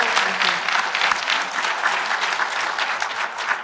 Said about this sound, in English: Can we give a round of applause for them?